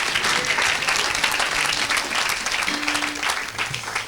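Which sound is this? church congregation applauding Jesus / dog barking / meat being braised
church congregation applauding Jesus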